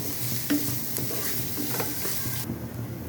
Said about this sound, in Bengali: এখন আমি পেঁয়াজ মরিচ ভেজে নিব। কুসুম কালার করে ভেজে নিব। আমি এভাবে নেড়ে ভেজে নিতে হবে।